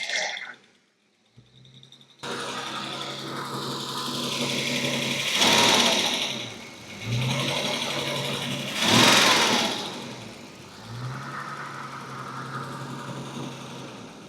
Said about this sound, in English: I think that's idling a bit quick.